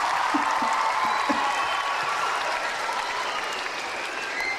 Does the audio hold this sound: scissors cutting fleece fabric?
no